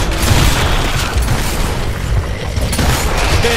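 Grenade blast in the Gears of War Ultimate Edition multiplayer game, a loud, dense boom with sustained rumbling debris that fills the whole stretch, no voices over it.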